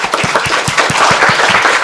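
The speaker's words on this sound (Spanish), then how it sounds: "Un aplauso por..." Dense, steady applause from a seminar audience at a talk on complex systems and Mexican cities, a continuous wash of many hands clapping at full, even loudness throughout.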